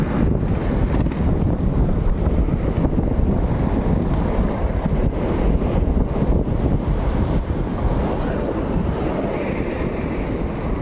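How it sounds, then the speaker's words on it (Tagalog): Strong wind blasts during a typhoon with heavy rain, a continuous loud roar buffeting the microphone for the whole stretch with no voices. "Lumakas lalo ang hangin."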